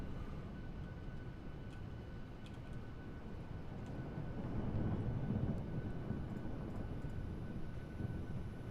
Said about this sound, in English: Let's go ahead and spool up the APU.